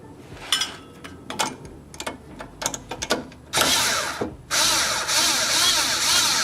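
A power driver runs in suspension bolts during a sway bar and subframe brace install, starting with several short bursts and then moving into two longer sustained runs, loud and close, with handling noises between the bursts.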